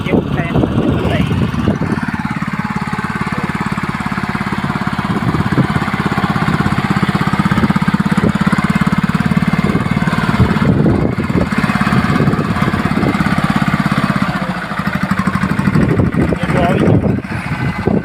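A tractor engine works steadily in a cotton field while building ridges between the rows. It gives a loud, continuous rumbling drone that holds throughout, with voices talking nearby.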